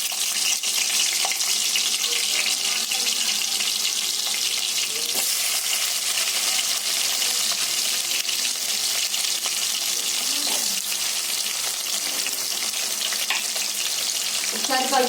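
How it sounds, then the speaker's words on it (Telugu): Onion pieces fry in hot oil in a pot for a country chicken curry, a loud, steady close-up sizzle with occasional stirring clatter. "ఆయిల్ వేడయ్యాక మనం కట్ చేసి పెట్టుకున్న ఉల్లిపాయ ముక్కలు వేసుకుందాము."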